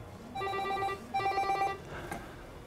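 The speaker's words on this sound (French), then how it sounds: "l'afficheur LED de la salle de garde est également notifié avec une sonnerie" A ringtone sounds from the LED display in a hospital nurses' station: two ringing electronic tone bursts in quick succession, moderately loud over quiet room noise, then a softer tail.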